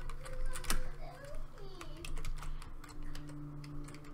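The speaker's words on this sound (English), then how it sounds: "I'm smacking on the keyboard, but nothing keeps making it go fast." Rapid, uneven clacking comes from a computer keyboard being smacked during a computer game, the keys rattling near and loud while a voice and game sounds drift underneath.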